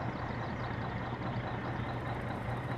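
A loaded truck engine drones steadily in the game My Summer Car, a constant low rumbling hum with no pauses and no talking.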